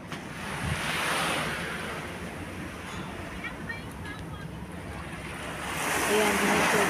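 Ocean waves wash onto a beach, a continuous surf roar that swells at the start and again toward the end, with wind buffeting the microphone and no talking.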